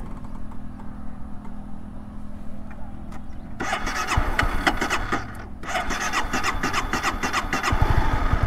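A 2011 Honda CBR250R motorcycle sits quiet at first, then its engine cranks and catches partway through, settling into a brisk mid-pitched run with a brief dip before picking up again.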